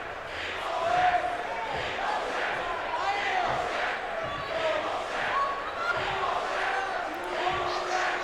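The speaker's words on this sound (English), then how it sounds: "Crowd chanting yes here." A large wrestling arena crowd chants in a rhythmic, repeated pattern, a continuous roar of many voices heard from a distance at a moderate level.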